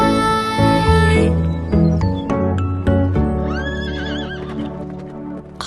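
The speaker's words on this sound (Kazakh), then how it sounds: "Мұғалжар жылқысы деген осы." A Mugalzhar horse in an animated film neighs loudly with a long whinny near the start, followed by a series of hoof clip-clops and another higher whinny, all set against continuous music.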